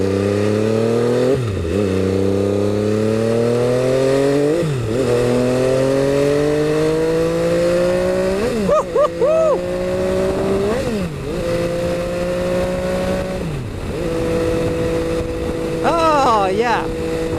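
An MV Agusta F3 800 superbike accelerates hard along a dual carriageway, its engine note climbing through repeated rising sweeps as it shifts up gear by gear, loud and close with wind rush and a few throttle blips.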